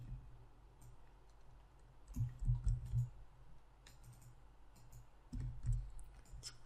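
Computer mouse clicks at a desk, a few quiet isolated taps followed by two short bursts of rapid clicking, close and dry, with no talking.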